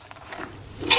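A chickpea and tomato mixture with olive oil stirred in a pan, a brief close scrape and wet squish building to a louder sizzle-like rush at the end.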